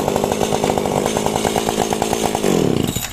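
Loud, steady two-stroke gasoline chainsaw idling up close with a pulsing, rattling engine beat, then revving up sharply near the end.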